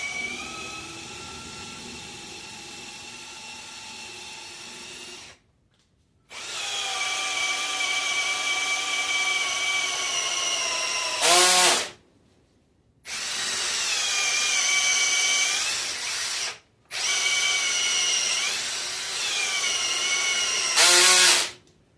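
A power drill with a dulling bit drills out a broken stud, whining loudly in three long sustained runs, with brief silent gaps between them and a sharp rising squeal at the end of two runs.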